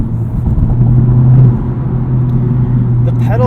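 A 2019 Honda Civic Type R with a manual gearbox accelerates hard, its engine a steady loud drone from inside the cabin that climbs slightly in pitch and then holds, with no talking over it.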